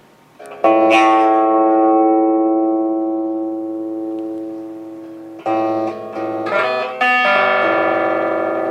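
Fender Deluxe Reverb AB763 amplifier with master volume turned down, playing distorted electric guitar chords: a long sustained chord decays over several seconds, then a few fresh strums ring out loud and close, with no talking.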